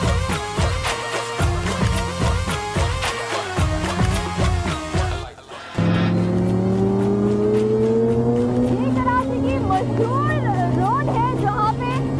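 Cars race on a road track in Karachi: busy rhythmic traffic noise cuts out briefly, then engines rev with rising pitch, loud and near, while a crowd babbles in the background.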